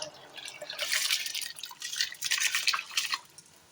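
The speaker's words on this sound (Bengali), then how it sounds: "প্রথমে দিয়ে দিচ্ছি ধুয়ে রাখা চাল" Washed rice tipped into a cooking pot for khichuri, a brief close rush of wet grains and dripping water that swells and patters in uneven bursts for a few seconds.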